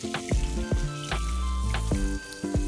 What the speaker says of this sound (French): Et ainsi elles vont frire.